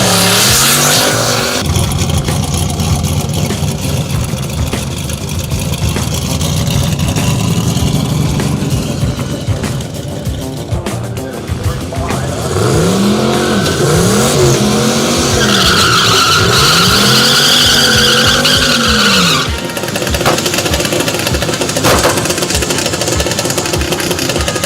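A stick shift Buick Roadmaster skids with loud, wavering tire squeals that rise and fall in repeated arcs over a roaring engine, sustained and close throughout.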